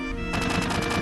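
Rapid pistol gunfire in the Final Fantasy 7 video game, a quick run of loud, close shots in steady succession lasting about a second.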